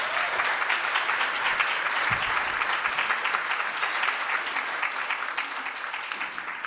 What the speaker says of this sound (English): Again, a round of applause for these two.